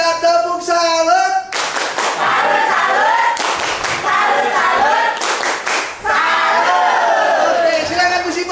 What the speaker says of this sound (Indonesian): Satu, dua, tiga, tepuk salut.